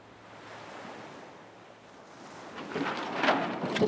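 Waves washing against a sailboat's hull under steady wind noise, building louder toward the end with splashing surges; no voices.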